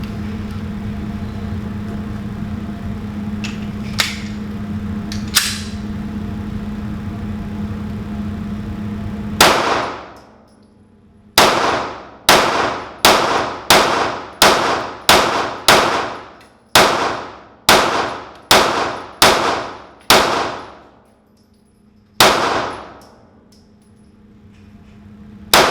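A rifle fitted with a Spartan Defense gas pedal and a DevilDog Concepts side charger fires about a dozen loud, sharp rounds in an uneven rhythm, each with a short ringing decay, after a low steady outdoor hum with a couple of faint clicks.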